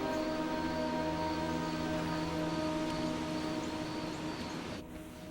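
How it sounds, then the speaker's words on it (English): Steady rain falls at night in fog, a dense continuous hiss over a low hum, holding constant before easing slightly at the end. "It's starting to rain."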